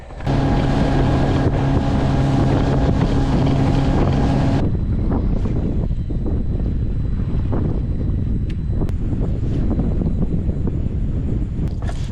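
Strong wind roars and buffets the microphone nonstop by a river, with a steady low boat engine hum in the first few seconds.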